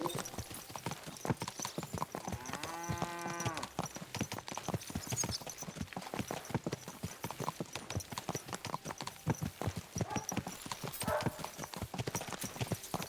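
Horse hooves clip-clop at a steady walking rhythm in the medieval video game Kingdom Come: Deliverance II, with a short neigh early on and faint talk in the background.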